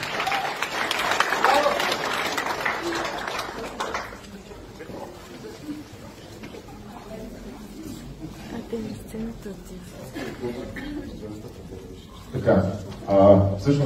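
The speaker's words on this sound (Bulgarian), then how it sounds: "Аплодисменти за всички вас!" Audience members at a staged group exercise applaud the participants, a loud burst of clapping for about four seconds that drops to a murmur of voices and movement, then a short flare of clapping returns near the end.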